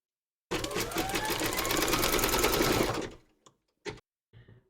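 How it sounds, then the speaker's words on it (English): Embroidery machine stitching a round to close a teddy bear's nose, a close, buzzing run of rapid stitches lasting about two and a half seconds, then a few brief clicks and short bursts as it stops. "Pop your hoop into your machine and stitch round number 10, and that's going to close the nose"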